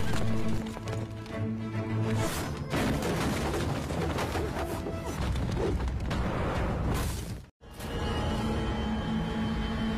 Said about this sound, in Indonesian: Akhirnya lomba pacuan kuda pun dimulai.